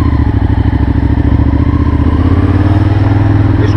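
A Ducati Monster 1100 with a dry clutch idles up close, its loud, steady, lumpy engine pulses mixed with a continuous mechanical clatter and rattle from the clutch.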